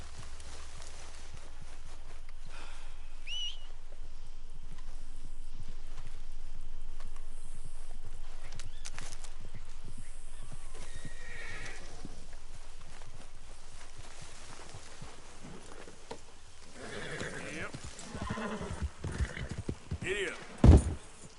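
A horse in Red Dead Redemption 2 clip-clops steadily at a trot or gallop, then gives a loud whinny near the end, with background game ambience throughout.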